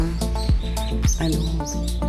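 Several birds chirp and tweet over one another in quick, overlapping calls, loud and close, forming a busy chorus among trees in a park.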